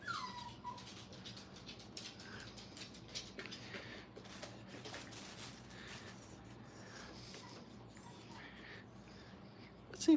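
Puppies in a training kennel with crate tunnels whimper and yip in scattered, thin bursts at moderate distance, over a steady background hum, with a person talking nearby.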